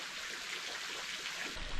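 Carmelita Waterfall, also called the barrel, in central Trinidad: a steady close wash of falling and rushing water with no pauses, even and broadband throughout.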